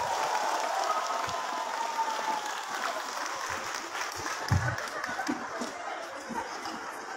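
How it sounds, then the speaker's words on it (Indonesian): An audience at a large religious gathering for the Prophet's birthday applauds a cleric's arrival, sustained clapping with light crowd murmur and chuckles, fairly even in level. "Tepuk tangannya dong yang meriah."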